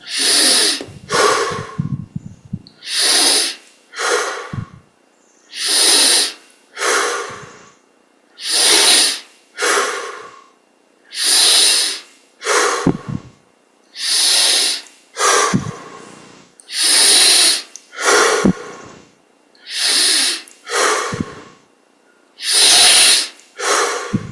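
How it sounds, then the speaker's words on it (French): Deep, slow breathing during a yoga meditation: about ten long, even cycles of loud, close inhales and exhales, each separated by a short pause, with no other sound. "Et on prend 20 grandes respirations."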